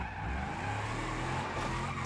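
In a video game, a car drifts with a loud, sustained tire skid squeal over a roaring engine, close and continuous throughout, with no talking.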